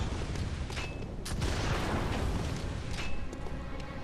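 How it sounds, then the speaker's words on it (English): An enemy firing at the player in the video game Bloodborne, dense rumbling gunfire and booming blasts in a loud, continuous barrage with a few sharper hits standing out. "It's gonna stop shooting us."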